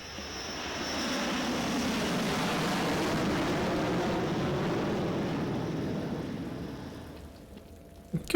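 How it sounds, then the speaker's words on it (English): A plane engine roars overhead in Fallout's Vault 101 map. It is a steady broadband drone that swells in within a second, holds loud and even, then thins out near the end, with no talk. "Airplane."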